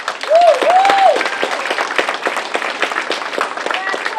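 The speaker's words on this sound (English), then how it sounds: "can you clap your hands for our councilman now?" At the 2019 State of Ward 7 community gathering, an audience claps for the councilman in lively, close applause, with whooping cheers and excited voices riding over the hands early on.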